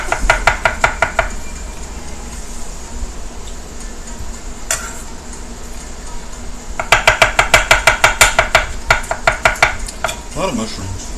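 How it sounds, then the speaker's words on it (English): A knife chops mushrooms on a cutting board for a chicken, spinach and mushroom casserole, with two bursts of fast, rhythmic, close taps separated by a quieter pause, over a steady kitchen background. "Chopping up a little mushroom."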